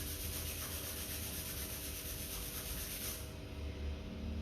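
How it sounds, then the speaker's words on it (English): Palms rubbing briskly together during a quiet yin yoga class, a soft, steady, close friction hiss that carries on for about three seconds before easing off, with no talking. "Rubbing your palms."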